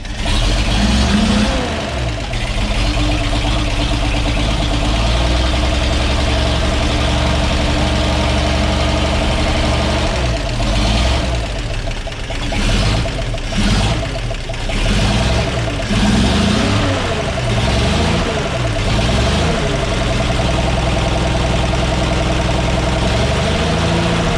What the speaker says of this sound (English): So she's idling a lot better now.